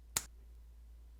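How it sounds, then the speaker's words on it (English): One sharp finger snap rings out once in a quiet room, with silence after it. "I'm supposed to snap my fingers and it all gets assembled"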